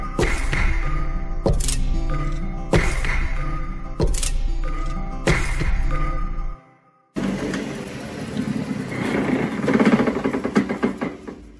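An old bench sander shaping a part while repairing a 1965 Gibson guitar: a loud, steady whirring grind with several sharp thumps, a brief drop to near silence, then a rougher, noisier grinding stretch up close.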